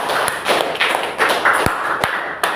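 Scattered hand claps from a small classroom group after a student presentation, uneven and fairly close, with a few sharper individual claps standing out over a light murmur.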